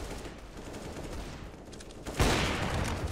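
Gunfire in the video game CS:GO: a faint, muffled background of game noise gives way to a single louder shot about two thirds through, with the noise staying raised after it.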